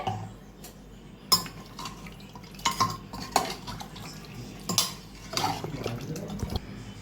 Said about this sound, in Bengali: দিয়ে আমি একটু নাড়িয়ে